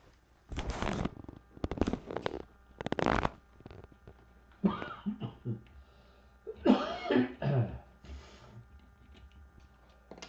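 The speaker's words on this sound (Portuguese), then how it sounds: "Me perdoem pela tosse" Three harsh coughs in a row, close and loud, followed by a person talking.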